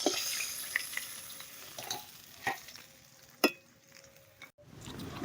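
Hilsa fish fries in hot oil with turmeric, a faint steady sizzle broken by several sharp clinks and scrapes of a utensil as the pieces are lifted out.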